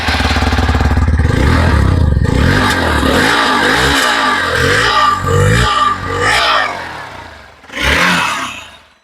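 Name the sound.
Hero Xpulse 200 motorcycle exhaust sound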